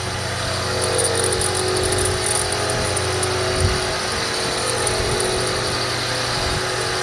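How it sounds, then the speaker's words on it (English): A Bridgeport milling machine runs with a loose pin rattling in the wheel's center hub, giving a loud, steady mechanical drone with faint irregular clatter mixed in throughout. "That rattling you hear is a pin in the center hub. It's loose."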